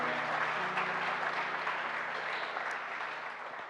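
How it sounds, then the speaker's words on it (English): A church congregation claps steadily for a newly consecrated bishop, a full, even roar of many hands with a low hum beneath, easing off slightly toward the end. "Shall we clap for him, please?"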